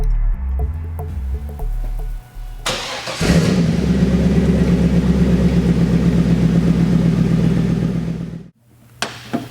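A 2002 Chevrolet Camaro SS with a 5.7-liter LS1 V8 and six-speed cranks and fires up loudly nearby, then settles into a lumpy, throbbing idle before abruptly cutting off, with a brief rumble after.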